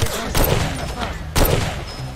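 Gunfire in the video game Far Cry 2: two loud, sharp bursts of shots about a second apart, each trailing off into a rumbling echo, with no voices over them.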